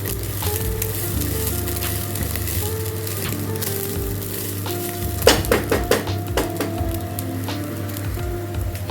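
Ingredients for Bengali basanti pulao frying in a pan, a steady close sizzle that continues throughout, then a burst of stirring and utensil clinks against the pan in the latter half, with no talk.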